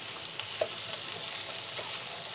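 Masala with cauliflower stalks frying in oil over a low flame gives a steady, even sizzle and crackle, with a few faint pops and no voices.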